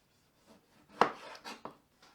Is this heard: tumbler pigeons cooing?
no